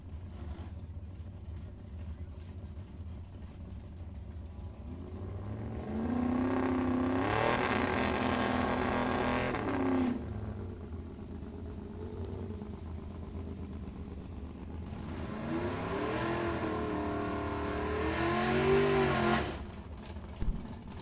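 Drag race cars at a strip, including a small-block Chevy class field, roar loudly as they accelerate in two long full-throttle passes with rising engine pitch, separated by a quieter idling interval.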